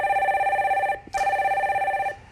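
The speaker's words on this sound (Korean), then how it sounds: "다음 전화 받아볼게요" A telephone rings on a radio call-in stock-market broadcast, two loud electronic bursts of ringing separated by a short gap, with no talk over it.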